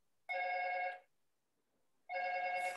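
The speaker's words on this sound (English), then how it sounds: "the doorbell's ringing." Indoor doorbell chime ringing in two distinct bursts separated by a second of quiet, the tones bright and clear, with no talking over them.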